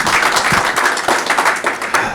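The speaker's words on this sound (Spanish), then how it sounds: "Un fuerte aplauso para el doctor Ugarte." An audience at an academy session on artificial intelligence in medicine applauds a speaker. The clapping is moderate and a little uneven, with scattered individual claps, and no one talks.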